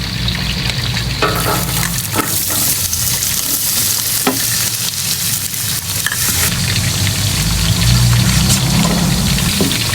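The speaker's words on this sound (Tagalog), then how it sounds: "Dito din po tayo maggigisa ng ating bawang sa pinagprituhan ng tokwa." Garlic sizzles loudly in the oil left over from frying tofu, a dense, steady crackle and hiss throughout, with occasional scrapes as the pan is stirred.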